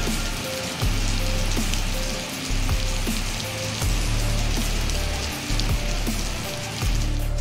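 Steady rain falls continuously in a dense hiss on surfaces outdoors by a roadside, loud and close, with a low rumbling hum beneath it and no talking.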